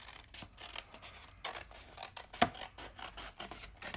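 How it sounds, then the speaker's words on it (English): Scissors cutting card paper along a score line for a chocolate Valentine box, a close, quiet run of rasping snips and scraping strokes with one sharper click partway through. "So we're going to cut this whole thing."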